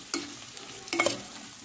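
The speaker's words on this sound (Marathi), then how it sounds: "याला पण आपण 2 मिनिट मस्त परतून घ्यायचं।" Potato and tomato sautéed in a pan for aloo pulao, faint sizzling under two sharp clanks of a spatula against the pan and a softer tap between them.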